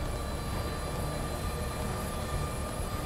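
Steady airplane engine drone inside Call of Duty: Modern Warfare, a continuous loud hum with no breaks, heard alone with no talking.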